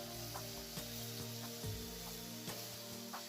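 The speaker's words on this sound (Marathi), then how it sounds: "तेल गरम झालेलं आहे आणि फास्ट गॅस करून ठेवलेला त्याच्यामध्ये आलं लसूण आणि मिरची घातलेली आहे" Ginger, garlic and chili sizzle in hot oil over a high gas flame. The frying hiss is steady and close, with a few soft clinks of stirring, and no one speaks.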